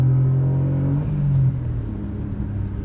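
A Spoon-tuned Honda N-One RS kei car engine revs hard in second gear, a steady rising drone that drops sharply midway as the shift or lift comes, then settles into a lower, rougher rumble.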